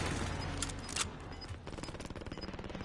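Video game gunfire with bursts of rapid shots followed by a steady fast rattling run of rounds, fairly quiet and with no talk over it.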